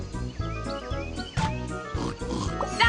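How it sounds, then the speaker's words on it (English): Cartoon pigs oink and grunt in rhythmic bursts over bouncy background music in a children's train video game. "Drag the pigs and drop them in their pen."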